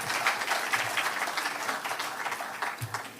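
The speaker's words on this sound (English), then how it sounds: "Please give all of them a resounding round of applause." An audience at a leadership lecture applauds steadily throughout, a dense, even wash of many hands clapping in a large room, fairly loud with no speech over it.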